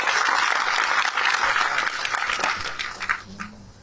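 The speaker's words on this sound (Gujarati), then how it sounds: "જોરદાર તાળીઓથી બિરદાવો." An audience at a community gathering claps loudly and steadily, and the clapping thins and fades out over a few seconds.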